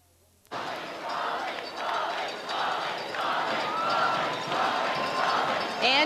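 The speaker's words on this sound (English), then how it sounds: "You hear them cheering, Polly" Crowd cheering along a Rose Parade route in 1989, bursting in suddenly after a brief quiet moment and then holding as a steady, loud, sustained roar with rising swells, with voices mixed in.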